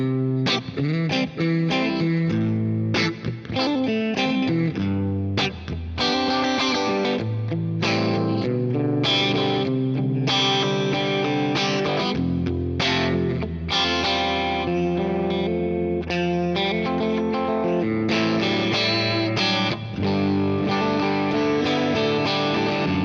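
An electric guitar through a Fractal AX8 amp modeler on a clean Vibrato Lux amp model plays a continuous run of chords and melodic lines, steady and fairly loud with a smooth, polished tone and no voices.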